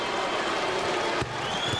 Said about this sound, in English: Oh, and you hear the reaction from the crowd.